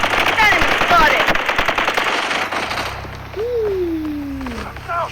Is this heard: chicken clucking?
no